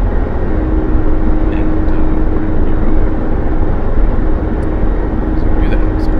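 Mi-24P Hind helicopter in DCS lifting off and climbing, a steady, loud rotor and turbine roar filling the whole clip with a constant drone under someone speaking.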